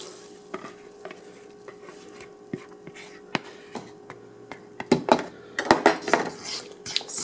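A spoon stirs melted butter into three mashed overripe bananas in a bowl, making intermittent clinks and wet scraping that grow busier and louder toward the end, close by, with a soft voice faintly in the background.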